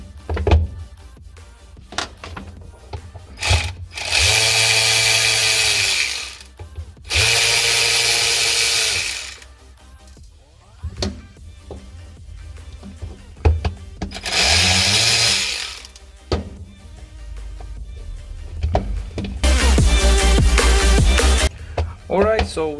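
Power screwdriver backing screws out of an Autel touch-screen scan tool, several separate whirring bursts of a few seconds each with quiet pauses between, close by, and someone talks quietly in the gaps.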